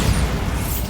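Bombarda spell explosion in Hogwarts Legacy: a loud, dense one-second burst of booming rumble with a broad crackling wash, near and alone with no talk.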